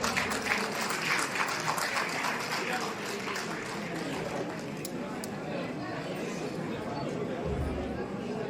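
Audience applause at a poetry gathering (kavi sammelan) in Varanasi, a steady, dense wash of clapping that fills the whole stretch at an even level, with crowd murmur mixed in.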